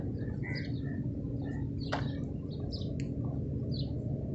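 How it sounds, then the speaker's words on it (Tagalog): Crows in Khobar, Saudi Arabia, giving a few short scattered calls at moderate distance over a steady low background hum, with no talking. "Yan, oh, uwak, oh."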